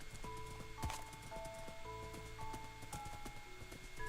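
Fast horse hooves clip-clop in a quick, even gallop in the Minecraft video game, with game music tones sustained underneath.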